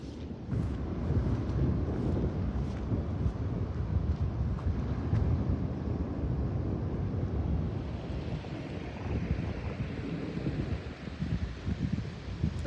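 Flood water rushing along a horse riding trail turned river with rapids, a steady broad roar mixed with wind buffeting on the microphone, continuous and fairly close.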